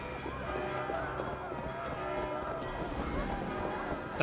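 Rapid galloping hoofbeats of a horse in the video game Assassin's Creed Valhalla pound under a dense, layered background of music and ambient noise, steady and close throughout.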